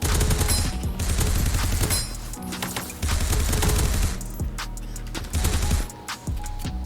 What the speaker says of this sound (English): Here we go with the SMG